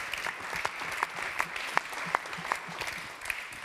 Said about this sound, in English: please again, big applause